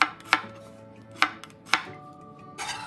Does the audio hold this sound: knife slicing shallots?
yes